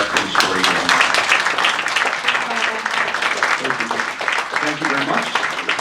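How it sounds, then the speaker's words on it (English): Audience at a press conference applauding, a dense sustained patter of clapping that fills the whole stretch at steady volume, with some voices mixed in. "let's give a big round of applause for Eric and Shiori."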